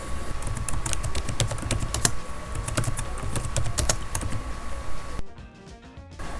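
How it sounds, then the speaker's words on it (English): Close, quick clicking of keys on a computer keyboard, steady rapid typing for several seconds that stops abruptly near the end, with no voices. "Then you have to type your site name."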